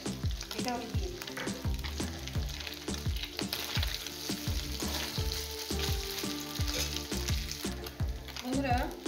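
Small mourala fish fry in hot oil, the pan sizzling steadily and loudly while a spatula turns them in rhythmic scrapes and taps throughout.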